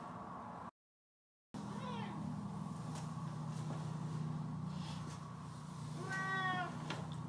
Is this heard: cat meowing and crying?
yes